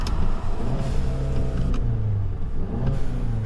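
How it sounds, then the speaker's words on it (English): A 2022 Ford Maverick Lariat pickup engine revs hard with turbo whine, a loud, sustained close-up roar rising and falling in pitch over a few seconds. "you can really hear the turbo noise like crazy."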